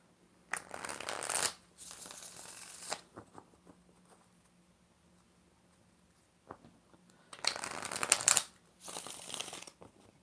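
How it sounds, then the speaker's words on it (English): A deck of tarot cards is shuffled in four separate bursts of brisk, riffling flutter close to the microphone, with quiet pauses between them and no voices. "Five shuffles."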